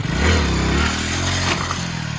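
A Hero Splendor motorcycle engine revs hard as the rider pops the front wheel up for a wheelie, a loud close roar with rising bursts and some clattering.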